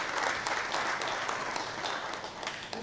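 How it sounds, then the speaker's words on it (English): An audience at a pastoral response conference session claps steadily for the presenters, a dense even wash of many hands, moderately loud and continuous with no talk over it. "round of applause to our presenters"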